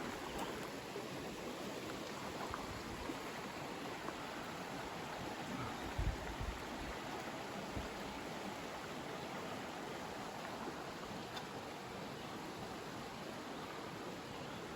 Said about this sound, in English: So this is Bear Creek